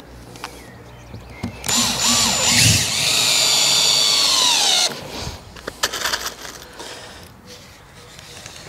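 A power drill drives screws into a shed roof, whining loudly and steadily for a few seconds at close range, then stopping, with scattered knocks and handling noises afterward.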